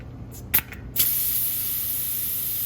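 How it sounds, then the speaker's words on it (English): Air hisses steadily out of a car tire valve as it is deflated, a loud continuous rush that starts after a few short bursts and holds on without talk. "First, I'm going to let all the air out."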